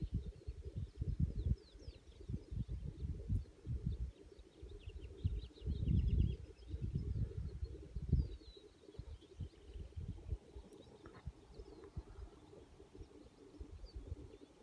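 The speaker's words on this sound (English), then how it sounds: "Hear the birds?" Birds chirping faintly outdoors on a calm winter day in a garden, scattered distant calls over a low rumbling background that dominates the sound.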